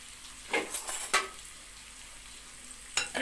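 Tomato sauce for Egyptian koshari being stirred in a pan, a few short scraping and sizzling strokes close up, separated by a quieter gap of low simmering.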